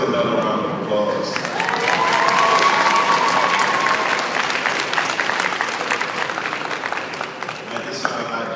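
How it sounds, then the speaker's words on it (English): Audience at a dental school white coat ceremony bursts into sustained applause, dense and loud throughout, with some cheering mixed into the clapping. "let's give them another round of applause"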